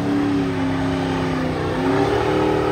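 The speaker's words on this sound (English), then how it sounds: "This is his first time ever in a burnout pit." A truck engine revs hard and continuously in a burnout pit, a loud sustained roar with rising and falling pitch and no break throughout.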